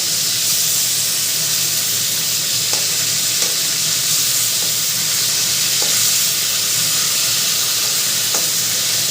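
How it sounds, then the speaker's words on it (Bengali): Fish fry in a pan of hot oil with a steady, close sizzle and crackle, and a few soft clinks as pieces are turned. "তো আমি ভেজেই রান্না করব মাছটা"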